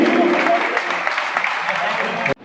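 Loud, dense applause from a crowd at a Sindhi community awards ceremony, steady and close, then abruptly cut off at the end.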